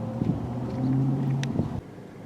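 Engine hum of a 2018 Audi A4 under way, a low tonal drone that rises briefly in pitch and then cuts to a quieter rumble, heard close from inside with no speech.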